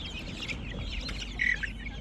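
Black chicken chicks offered for sale in Andijan chirp and cluck steadily at close range, with a brief louder peep standing out near the middle.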